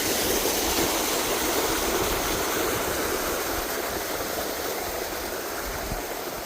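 Fountains and a flowing waterway make a steady, loud, broadband rush of water, constant throughout without pauses; no voices.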